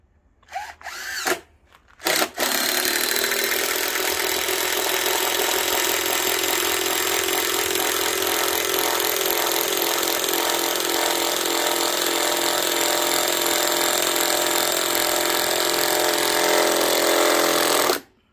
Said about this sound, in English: So I'll quickly drill one in